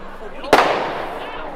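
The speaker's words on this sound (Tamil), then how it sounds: "பட்டாசுலாம் வெடிக்க ஆரம்பிச்சிட்டாங்க" A firecracker bursts with one sharp, loud bang and a short decaying rumble, set off outdoors at the Trafalgar Square Christmas Market in London amid crowd noise.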